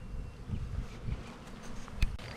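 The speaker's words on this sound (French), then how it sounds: "si jamais vous êtes témoin de ce genre d'essaim dans la nature ou chez vous à la maison" A honeybee swarm buzzes in a low, wavering drone close by, with individual bees swelling louder as they pass near, for a brief stretch.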